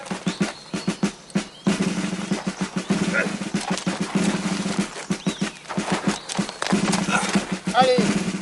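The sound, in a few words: horse galloping during riding lesson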